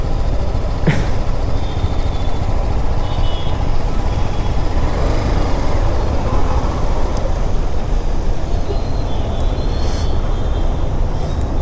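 Steady roaring road noise while riding a BMW 310GS motorcycle through traffic, a loud continuous rush of wind, engine and passing vehicles with no pauses.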